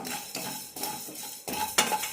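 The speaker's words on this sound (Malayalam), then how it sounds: "രണ്ട് മൂന്ന് മിനിറ്റ് ലോ ഫ്ലെയിമിലിട്ട് വറുത്തെടുക്കാം" Coriander and whole spices such as cumin, cinnamon, cloves and cardamom dry roasting in a pan over a low flame, with repeated scraping and clinking strokes of a spoon against the metal and a light rustle between them.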